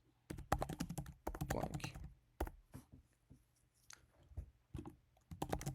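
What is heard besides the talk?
typing a code comment on a computer keyboard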